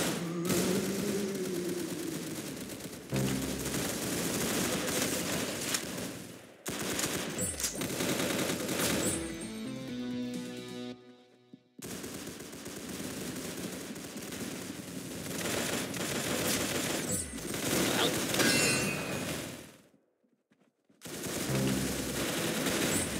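Rapid gunfire from a shooting video game, with sustained automatic bursts and dense volleys of shots running almost continuously, loud and close. The firing is broken by a couple of short pauses and one near-silent gap.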